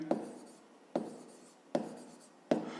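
Pen or pencil writing by hand while working a fifth-grade math exercise: four crisp, evenly spaced strokes, each a sharp scratch that fades out. Close and clear, with no talking.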